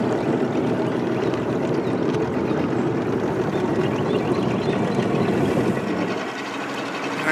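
A motorboat cruises through a flooded bean field with a steady, close engine drone and water wash that hold throughout, easing off slightly near the end.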